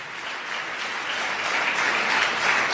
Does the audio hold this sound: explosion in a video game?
no